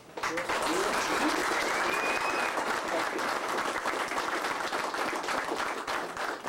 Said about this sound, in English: So we should all give ourselves a round of applause for that.